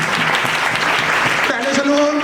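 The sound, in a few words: congregation applause during sermon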